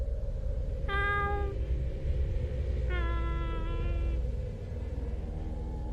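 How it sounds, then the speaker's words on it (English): A cat meows outside a shack twice, two drawn-out cries about two seconds apart, heard over a steady low rumble in the background. "Back inside the shack, the meowing outside returned."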